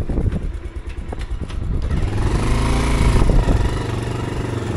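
A motorbike engine runs close by with a steady, loud, rumbling drone that builds slightly and holds. No one speaks.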